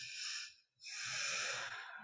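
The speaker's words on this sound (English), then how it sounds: "Breathing deep." Slow, deep breaths, a long airy inhale and exhale close to the microphone, separated by a brief pause, during a gentle seated chair yoga session.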